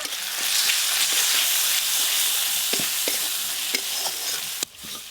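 Ground cumin, coriander and red chilli powder cook with tomato in hot oil in a pan, sizzling and hissing steadily up close while a spoon stirs and scrapes now and then.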